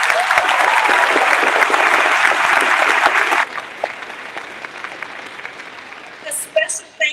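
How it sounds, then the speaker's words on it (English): A crowd at a Black History Month event at a church applauds loudly and steadily for about three seconds, then the clapping stops abruptly, leaving scattered claps and quiet room murmur before a few brief sounds at the end. "Give yourselves a round of applause."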